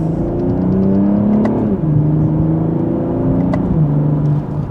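A 2026 BMW M240i xDrive in Sport Plus mode accelerates steadily in second gear, its engine droning close and loud with a couple of rising sweeps, heard from inside the cabin with no talk.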